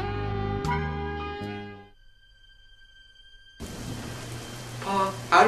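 A steady hiss of storm rain sets in after a stretch of sustained musical tones and a near-silent gap, with a brief louder patter near the end.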